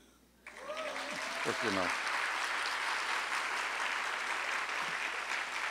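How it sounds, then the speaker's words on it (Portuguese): Audience applause at a Brazilian panel event on contemporary socio-environmental challenges, starting abruptly after a brief spoken phrase and continuing as steady, full clapping through the rest, with a faint voice near the start. "Podem aplaudir."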